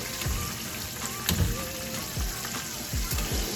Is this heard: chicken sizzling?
yes